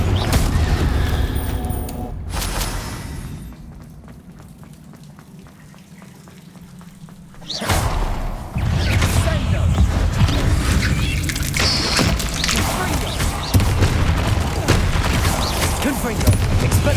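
Confringo fire-blast spells in Hogwarts Legacy, loud crackling explosive bursts with a quieter lull midway before a dense barrage of blasts and battle noise resumes, spell names called out in game voices.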